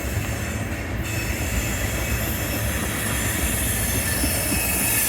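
A long CSX freight train led by the Monon heritage locomotive 1897 passes the historic Martinsburg roundhouse, its wheels grinding and squealing against the rails in a steady, close roar without pause.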